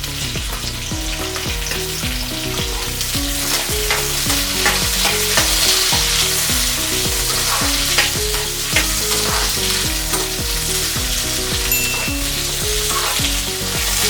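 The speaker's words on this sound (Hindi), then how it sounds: "अभी हम इसमें डालेंगे ऑनियन," Onions frying in a pan for Andhra-style chilli chicken, with a loud continuous sizzle and repeated rhythmic stirring strokes throughout, close and unbroken.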